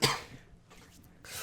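A single sharp cough bursts out at the start, followed by quieter breathy rustles and a second rough burst at the end, in a podcast recording with no speech over it.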